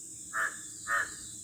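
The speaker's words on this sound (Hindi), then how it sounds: "तो सुन रहे होंगे कौवा काँव काँव कर रहा है।" A crow caws twice at an even interval from a rooftop in a forest hermitage setting, clear and moderately near over a quiet background.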